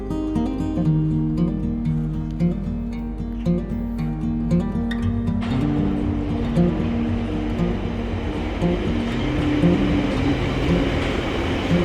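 A London Underground Piccadilly line train rumbles loudly and steadily with droning mechanical tones, its noise swelling into a harsher roar partway through as it runs.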